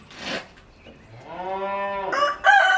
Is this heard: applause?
no